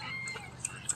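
Chickens and ducks on a farm, heard as faint clucking under steady outdoor background noise, with a couple of brief sharp squawks near the end.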